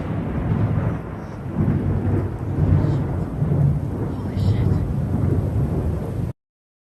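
A thunderstorm rolls on with deep, continuous rumbling thunder and steady rain noise throughout, loud and close, ending abruptly.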